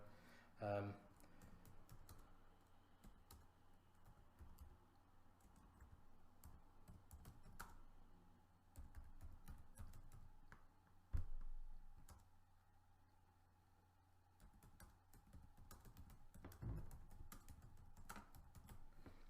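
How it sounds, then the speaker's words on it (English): Quiet, irregular tapping of keys on a computer keyboard, in scattered bursts with brief pauses, heard close but faint. "I'm just typing something in here so you can see for the exercise."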